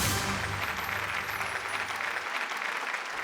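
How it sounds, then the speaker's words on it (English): Audience applause for a contestant at a Mumbai insurance awareness quiz show, a dense, steady burst of many hands clapping that fills the room for a few seconds before thinning slightly at the end. "Give her a round of applause."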